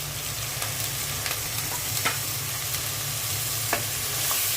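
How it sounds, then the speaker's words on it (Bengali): Ground spices such as coriander and cumin powder with salt and a little water sizzling and being stirred in a pan, a steady close frying hiss broken by a few soft scraping clicks. "মশলাটা ভালো করে কষিয়ে নিব"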